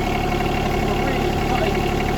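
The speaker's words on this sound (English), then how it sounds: "you can rev it up, you won't go so fast" A small tractor engine runs at steady high revs, a loud continuous drone with a voice talking over it.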